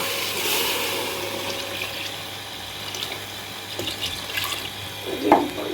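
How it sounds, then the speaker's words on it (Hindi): Water pours into a pot of browned chicken and potato curry, a steady splashing trickle that fades and then gives way to clinks of the pot, fairly close in a home kitchen. "अब इसमें मैं पानी शामिल करूँगी।"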